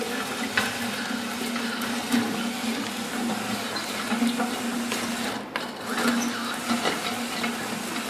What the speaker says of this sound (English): It is grinding the carbon up.